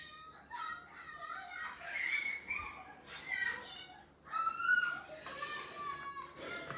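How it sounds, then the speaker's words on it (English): Children play and shout in a garden on a summer day, their high, lively voices rising and falling continuously at moderate distance without pause. "Sorry about the noise of the kids playing in the garden."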